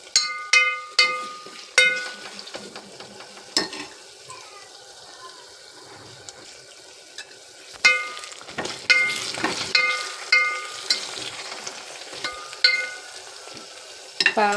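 Drumstick pieces and dried prawns cooking in a pan, with repeated sharp clinks and scrapes of a utensil against the pan over a light steady sizzle, close and fairly clear.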